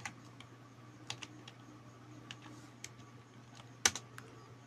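Code being typed on a computer keyboard for an Android Studio project, a quiet run of scattered key clicks with one sharper, louder stroke near the end over a steady low hum.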